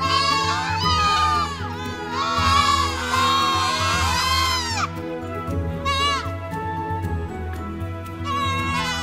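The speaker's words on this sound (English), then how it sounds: "Goats." A group of goats bleats repeatedly and loudly at close range, overlapping calls in wavering bursts, with people talking and exclaiming in the background.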